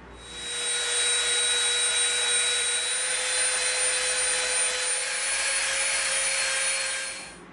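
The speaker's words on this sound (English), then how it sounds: "Dremel, and we're going to soften all the edges of all of these frames so they're not square." A Dremel rotary tool grinds down the edges of EVA foam frames, a steady high-pitched whine with an even buzzing hiss that runs continuously for several seconds at close range.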